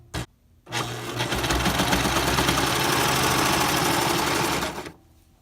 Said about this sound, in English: I took my serger. I always keep my tails a little long, and I just serged along the edge.